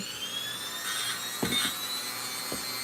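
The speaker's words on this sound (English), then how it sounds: "So turn your Dremel on." A Dremel rotary tool whines at high speed while carving a wooden snake, a steady close buzz with a few brief grinding bites into the wood.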